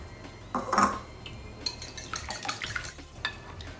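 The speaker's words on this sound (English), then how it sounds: "I'm going to do is I'm just going to quickly whisk up my 3 eggs" Three eggs are whisked in a bowl for a carrot cake batter: a quick run of clinks and scraping taps against the bowl, fairly close and light, with no talking.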